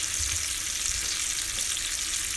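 Pork loin sears in an oily pan, a steady loud sizzle and crackle of frying with no pauses and no voices.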